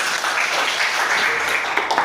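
A crowd applauds continuously, a dense wash of many hands clapping together at a steady, fairly loud level throughout.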